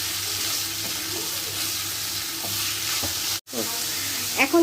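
A chicken and carrot filling fries in a pan with a loud, continuous sizzle, and a spoon stirs and scrapes through it several times.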